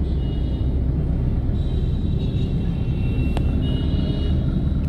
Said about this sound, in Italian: Sentite il bordello del traffico.